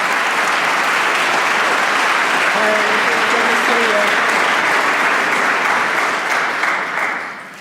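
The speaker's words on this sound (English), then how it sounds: "Give her a great round of applause." Applause from a conference audience welcoming a congresswoman to the stage, a dense, loud, steady clapping that holds for several seconds, then tapers off at the end.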